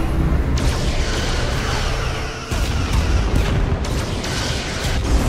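Weapons fire and explosions in a space battle between starships in the video game Star Trek Resurgence, heard as a loud, dense barrage of booming blasts and bursts that continues without a break.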